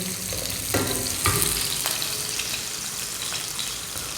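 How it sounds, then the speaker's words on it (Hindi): Onions, about 100 grams, sizzle and fry in hot oil for restaurant-style butter chicken, a steady close crackle with a few louder stir bursts and no talk. "प्याज को अच्छी तरह फ्राई कर लेंगे।"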